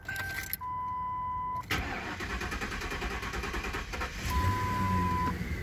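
A 2001 Lincoln Town Car with a suspected fuel pump fault cranks on starter fluid, its starter whirring, the engine catching briefly, then a rougher, louder running surge near the end.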